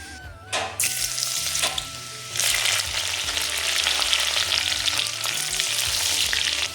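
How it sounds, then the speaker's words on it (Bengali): Chopped garlic and green chilli go into hot oil in a kadai, setting off a loud, crackling sizzle that swells and keeps hissing steadily, close by, with no speech. "এই তেলের মধ্যে আগে থেকে কুচানো রসুন কুচি আর কাঁচা লঙ্কা কুচি দিয়ে দেবো"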